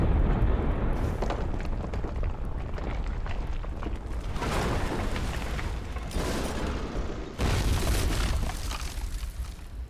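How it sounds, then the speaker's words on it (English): Explosion in modded Fallout: New Vegas, a sustained roaring blast of rumbling, crackling debris lasting many seconds, with fresh bursts partway through, loud and dense. "Kaboom."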